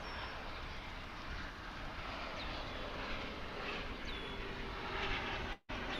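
Two airliners coming in to land at DFW Airport produce a faint, distant, continuous jet roar with a broad rumbling wash and no one talking.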